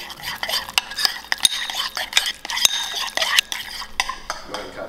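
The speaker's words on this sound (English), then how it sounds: "Be sure to stir it up with your spoon." A spoon stirs a hot keto flatbread mixture in a bowl for a pepperoni flatbread, giving repeated close scraping clinks and soft swishes at an uneven rhythm with no voices.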